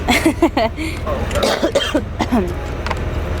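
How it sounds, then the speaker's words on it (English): Several short coughs mixed with throat clearing, close by, amid chatter and a steady low rumble of background noise on a bus. "You're the one coughing."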